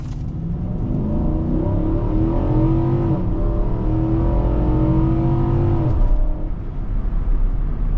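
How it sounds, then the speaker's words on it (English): A 2024 Infiniti QX80 full-size luxury SUV accelerates hard from a standstill toward 60 mph, its engine climbing steadily through rising revs with one clear shift partway, a loud sustained roar heard from inside the cabin. "But if we want to do a quick little 0 to 60, 3, 2, 1, go."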